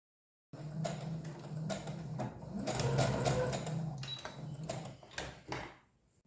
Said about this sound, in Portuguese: nós vamos passar uma costura de pesponto em toda essa volta aqui